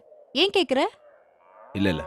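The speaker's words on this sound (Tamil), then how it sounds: "என்ன பின்னாடி மாடு சத்தெல்லாம் கேக்குது?" A cow moos briefly in the background of a village scene, a low drawn-out call between bursts of conversation, fairly faint beneath the nearby voices.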